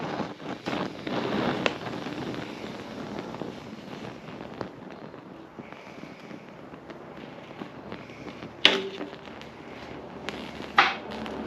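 A cheap online-bought laser welder fires in crackling, popping bursts over a steady hiss, with two sharper loud cracks near the end.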